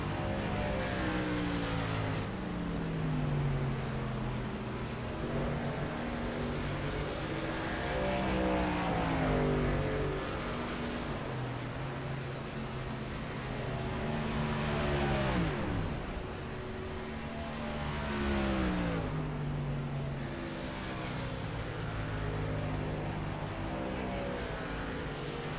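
Racing trucks lapping Homestead in a video game, engines whining and rising and falling in pitch as they pass through turns, several motors overlapping in a continuous loud drone with Doppler sweeps.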